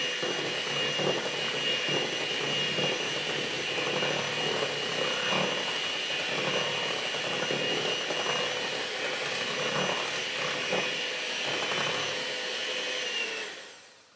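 Blender running on high to mix a vegan cheesecake filling, a loud steady whirring roar that continues for several seconds before trailing off.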